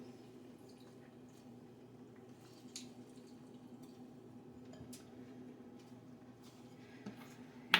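Halved lemon squeezed by hand in a kitchen for raisin pie, giving faint wet squishes and small drips in soft, irregular bursts against a quiet background hum, ending with a brief louder click.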